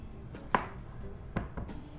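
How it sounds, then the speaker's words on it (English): A knife chops through zucchini on a cutting board while making chicken feta pasta, giving two sharp, close cuts about a second apart followed by a few softer taps. "I have 2 zucchini. I think I may only cut one of them."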